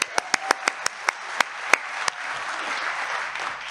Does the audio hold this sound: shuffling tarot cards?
no